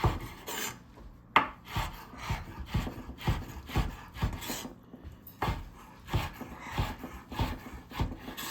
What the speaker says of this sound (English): We're just going to cut this up just enough, just like that.